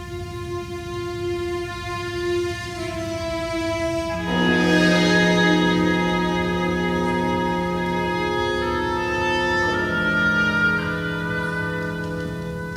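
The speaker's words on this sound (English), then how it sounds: "So can we first hear the Tristan chord?" Sustained orchestral chord from a Mozart movement, a Tristan-like harmony: dense held tones that shift to a louder, brighter chord partway through and continue swelling, played alone without any talk.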